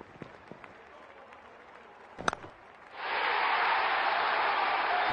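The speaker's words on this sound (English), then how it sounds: "Crowd is going crazy." Stadium crowd at an IPL T20 cricket match between Chennai and Punjab, quiet murmur with a few claps before a loud roaring cheer erupts and holds steady, with faint commentary.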